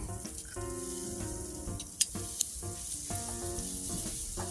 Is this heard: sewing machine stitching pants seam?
no